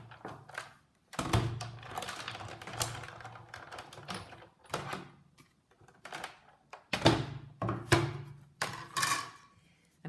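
A die cutting machine rolls cutting pads through in several separate bursts, each a rumbling, clattering pass with short pauses between, close and moderately loud.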